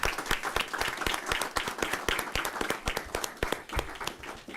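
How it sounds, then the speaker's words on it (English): Applause breaks out at a school district board meeting, a dense burst of many hands clapping for several seconds at moderate distance, fading slightly toward the end. "Go one last round of applause for this."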